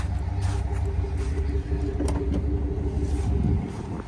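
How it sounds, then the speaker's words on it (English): Pickup truck with a dual outlet exhaust rumbling at idle, a steady low engine drone close by, holding even for several seconds before easing slightly near the end. "Dual outlet exhaust."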